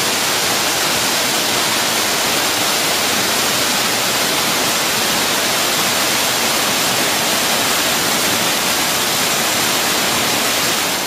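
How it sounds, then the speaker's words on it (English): Waterfall in a grotto at Parc des Buttes-Chaumont in Paris roars steadily and loudly, a dense, unbroken rush of falling water filling the space with no pauses. "the most beautiful waterfall in all of Paris"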